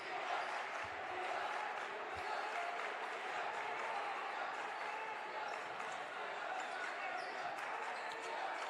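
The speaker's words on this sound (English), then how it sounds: "Crowd trying to get involved early." Spectators at a high school boys basketball game between East Noble and New Haven cheer and shout in a steady, busy din filling the gym, with a few sharp thumps of the ball bouncing beneath.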